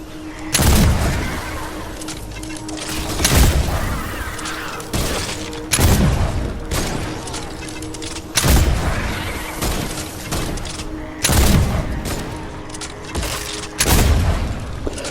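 A powerful pistol fires in Fortnite Save the World, single loud close shots spaced every few seconds with roughly six in all, each ringing out before the next, with no speech over them.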